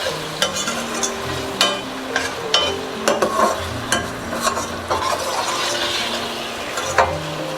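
Onion, garlic and whole garam masala fry steadily in hot oil for a gobhi gosht base, with a constant sizzle broken by frequent scraping stirs of a spoon against the pan, close and fairly loud, no talking.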